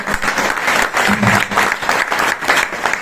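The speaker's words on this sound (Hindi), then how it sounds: "एक बार उनके लिए जोरदार तालियां बजा दो" Loud, sustained applause from a seminar audience in Rohtak, dense rapid clapping filling the room with slight swells, and a brief voice underneath.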